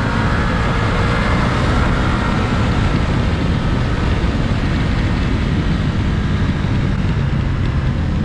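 A Ducati Multistrada V4S motorcycle rolls on at about quarter throttle in fourth gear on a wet road, giving a loud, steady engine drone mixed with heavy wind rush throughout.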